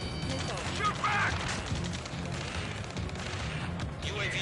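Gunfire in the combat flight game Ace Combat 7, dense rattling bursts and booms over a constant roaring battle din, with radio chatter in the mix.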